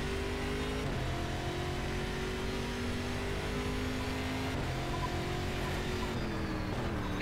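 A damaged stock car in the racing game Stock Car 2012, missing its bonnet, drives on with a steady engine drone, its pitch rising and dropping sharply twice as it shifts gears and slows for a corner.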